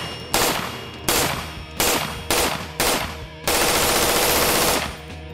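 Frangible polymer bullets are fired full-auto at a steel target at close range: five short, loud, rattling bursts followed by one long sustained burst, with metallic clanging from the hits.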